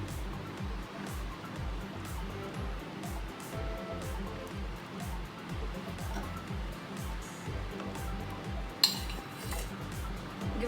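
Cooked pasta being stirred into a thick, cheesy white sauce made in the microwave, giving a steady run of soft, wet scraping and utensil clinks against the bowl, with one sharper clink near the end.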